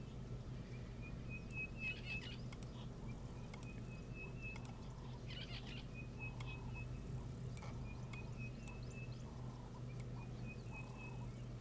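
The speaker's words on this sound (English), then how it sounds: "Lots of cuckoos around." Cuckoos call in repeated clear whistled phrases at a steady pace, with other birds chirping over a constant low rumble of background noise.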